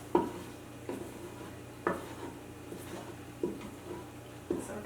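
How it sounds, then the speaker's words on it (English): Eggs cook in the bottom of an Instant Pot as a utensil stirs and scrapes them, giving a faint sizzle beneath roughly one sharp scrape or tap every second. "Stir this around, and we're going to cook the eggs"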